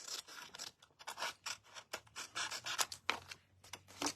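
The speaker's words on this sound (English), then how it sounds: "we'll open it up and we'll cut away the excess" Scissors snipping away excess paper from a handmade card, a close, brisk run of crisp cuts and slicing rasps with small pauses between strokes.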